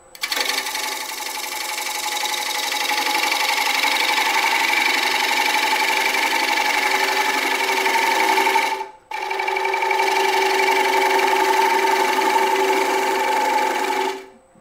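A bowl gouge cuts wood spinning on a lathe, giving a loud, steady whirring rasp that runs continuously, breaks off briefly, then resumes before stopping, with no speech.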